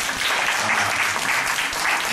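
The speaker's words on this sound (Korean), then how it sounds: "우리 수고하신 선생님들께 박수 한번 할까요?" Applause for teachers at a school presentation fills the whole stretch, a dense, steady patter of many clapping hands from a room of children and adults, with faint voices underneath.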